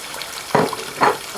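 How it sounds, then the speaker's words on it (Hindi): Ground tomato purée pours into a pan of masala frying in oil for chicken dil kaleji, giving two quick splashy bursts of hissing sizzle close by, with a low frying murmur between them and no talking. "यहाँ पर अब आप ऐड करेंगे जो हमारे टमाटोज़ हैं जिसे हमने ग्राइंड करके रखा हुआ था"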